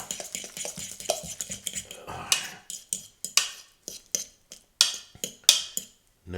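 Chaffle batter being mixed in a bowl, with a quick irregular series of sharp utensil clinks and scrapes against the bowl, close and clear, with no talking.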